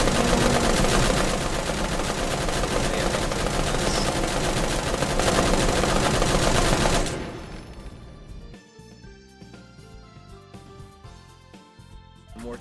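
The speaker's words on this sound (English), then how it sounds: "Pretty much just a machine gun nest by that point." Sustained machine gun nest fire in the Grave/Digger video game, a loud continuous rattle for about seven seconds that then cuts off, leaving quieter game sounds and music.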